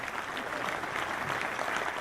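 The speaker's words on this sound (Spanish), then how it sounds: "le vamos a dar un aplauso grande" An audience applauds Natalia Bernardoni, a lawyer, at a talk on positive conflict management; steady, fairly faint clapping fills the whole short stretch without pause.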